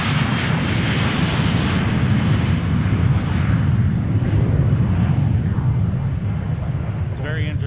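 A private jet takes off from the runway at Boeing Field, a loud sustained roar of jet engines at full power that fills the whole stretch, with faint radio chatter in the background.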